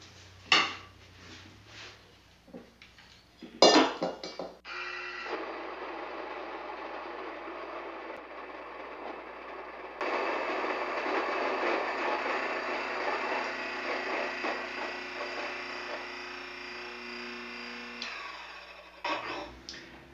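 A Mockmill 100 grain mill grinds grain into flour: a few clunks and clatters come first, then a steady motor whine with a gritty grinding rush that grows louder midway and cuts off near the end.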